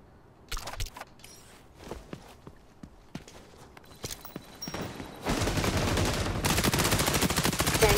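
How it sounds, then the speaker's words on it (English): Rapid bursts of MP5 submachine gun fire in the shooter game XDefiant, with scattered single shots and footsteps early on, then a loud sustained automatic stream over the final three seconds. "let's try this MP5"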